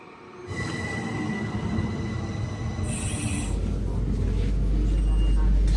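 A Swiss train rumbles into a small station with a growing low roar and squealing wheels, as the crossing barriers' high warning tone sounds and voices murmur nearby.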